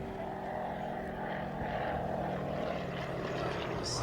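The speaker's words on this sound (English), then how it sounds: "2 very special Boeing Stearman biplanes. They've been adapted with 750 horsepower Pratt & Whitneys" Two modified Boeing Stearman biplanes with 750-horsepower Pratt & Whitney radial engines fly at an air festival, giving a loud, continuous droning propeller roar that holds steady throughout.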